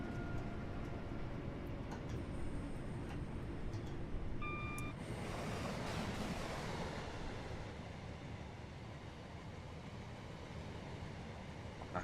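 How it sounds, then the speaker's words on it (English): A passing train in the Train Sim World 3 Birmingham Cross City line, Redditch branch: a steady, broad rumble and rolling rush that builds midway and holds on, with faint tones and clicks early on. "So maybe there is another train coming."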